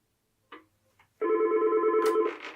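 A telephone rings after a call-parking number is dialed: a steady, loud electronic ring tone starts after a couple of short faint blips and holds for about a second before tapering into a brief burst of other sound.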